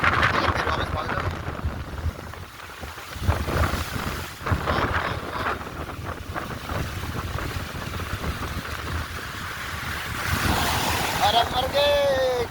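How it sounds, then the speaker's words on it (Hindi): Sea waves washing onto the rocks at Rock Beach in Pondicherry, a continuous surging rush with wind noise on the microphone, building louder near the end while people talk nearby. "पानी बहुत तेज आ रहा"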